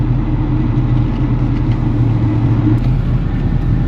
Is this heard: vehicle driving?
yes